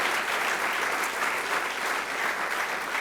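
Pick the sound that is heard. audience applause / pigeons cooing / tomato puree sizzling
audience applause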